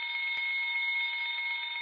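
A continuous electronic alarm rings in a video game, a steady, sustained buzzing tone at constant loudness with one brief click near the start.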